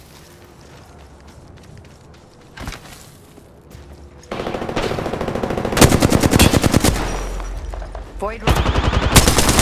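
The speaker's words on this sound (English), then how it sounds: "Contact with hostile. Firing. Getting shot at." Loud gunfire in an Apex Legends firefight: a sparse pop early, then dense, rapid automatic bursts that hammer away close and loud through the second half, with brief in-game voice callouts underneath.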